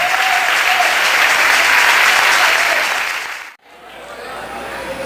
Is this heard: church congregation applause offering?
yes